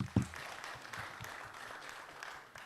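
An audience at a regional youth parliament session in Jinja City applauds after a vote count is announced, a short burst of steady clapping, moderately distant and soft, with a sharper clap or thump at the start.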